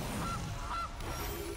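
The Gilded Goose card in the digital card game MTG Arena lets out a short cartoonish goose honk, two or three quick nasal calls, close and clear over a soft game backdrop.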